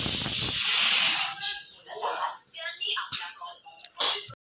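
A pressure cooker of dal and rice lets out a loud, sharp hiss of escaping steam at the start, then cuts off as someone talks, with brief clatters in a home kitchen.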